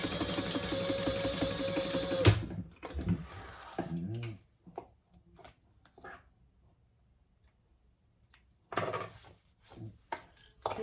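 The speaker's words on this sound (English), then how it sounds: "we're just going to sew the sides, though." A sewing machine stitches the sides of a fabric bag, running steadily for about two seconds, then stopping for scattered handling noises and brief pauses before a second short burst of stitching near the end.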